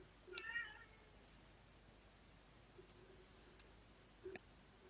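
A single faint cat meow near the start, followed by quiet room tone with a few soft clicks and a brief second chirp-like sound later on.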